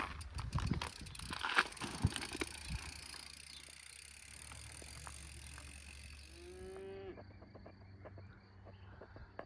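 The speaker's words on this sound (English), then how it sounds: "Love these cows." Cows near a French chateau campsite moo a few times, deep lowing calls among rustling and handling noise at the start, with faint insects chirping in the quiet background later.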